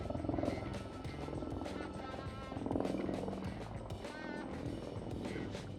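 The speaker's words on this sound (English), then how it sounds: "Wappa Choppa. Blackhawk." A Black Hawk helicopter passes overhead, its low rotor thump and engine roar rumbling steadily and fairly faint in the distance, with some outdoor background noise and no speech.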